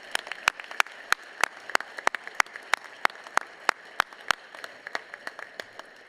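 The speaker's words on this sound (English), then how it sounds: "A big round of applause for our commencement committee." Scattered, distinct handclaps from a commencement ceremony audience, sparse and irregular, individual claps ringing out at a moderate distance in a large hall rather than a full roar.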